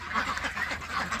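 Yi Liang ducks, a Thai meat-and-egg breed raised in Roi Et, quack in a quick burst of several nasal calls, close and fairly loud.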